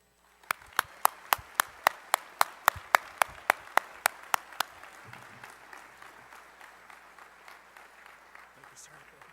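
Audience applause welcoming a Master Sergeant to the stage, opening with about sixteen sharp, evenly spaced claps, then softening into a steady spread of crowd clapping that fades toward the end.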